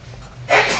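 A single short sneeze bursts out after a moment of quiet room tone during a chemistry lecture.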